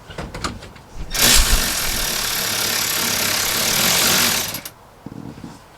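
A power tool buzzes loudly and steadily for about three and a half seconds as it removes a steering rack bolt on a van. Quieter clanks of handling come before and after.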